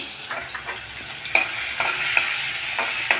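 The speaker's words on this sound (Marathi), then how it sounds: "तेल तापलेलं आहे आणि त्याच्यामध्ये आपण टाकला लसूण" Garlic sizzling in hot oil in a kadhai, a steady crackle broken by sharp spits and the scrape of stirring every half second or so, close and clear with no voices.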